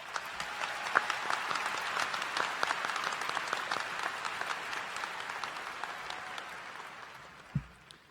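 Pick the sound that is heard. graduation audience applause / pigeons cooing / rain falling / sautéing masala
graduation audience applause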